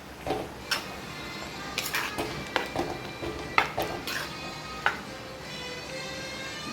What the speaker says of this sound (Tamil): நல்லா மிக்ஸ் பண்ணிடலாம்.